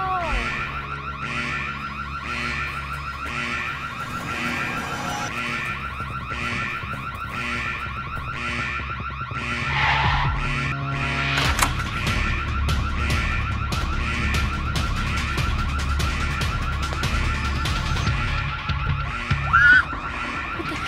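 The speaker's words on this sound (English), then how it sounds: "Someone's alarm is going off." A car alarm wails continuously in a cycling electronic pattern, loud and steady throughout, with a brief voice near the middle.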